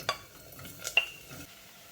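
Chopped vegetables tip into a pan for a dairy-free fish curry, giving a few soft clattering drops and a faint, brief sizzle and stir against low background noise.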